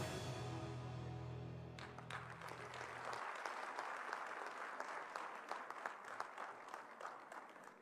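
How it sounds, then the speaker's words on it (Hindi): A large crowd claps loudly at a live public event in Haryana where the chief minister dedicates development projects. Dense, sustained applause rises after a brief lead-in and carries on without talk. "आपकी जोरदार करतल ध्वनि"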